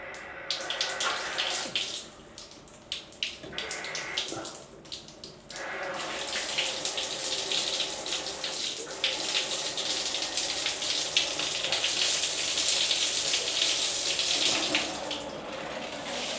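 A rainfall shower head in a Bangkok hotel bathroom sprays water, first in short bursts as it is switched on, then settles into a steady, close hiss.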